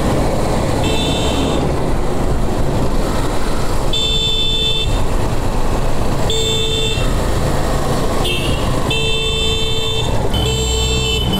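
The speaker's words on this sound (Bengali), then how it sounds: "সেই লোকটা কন্টিনিউয়াসলি হর্ন দিচ্ছে" A car horn honks again and again in long, loud blasts over steady road and engine noise, heard from a vehicle travelling through northern Bangladesh toward Panchagarh.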